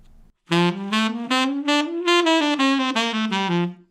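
A run of about a dozen saxophone notes tongued with the tip of the tongue, played legato-ish with soft, rounded attacks, close and steady, the melody rising then falling.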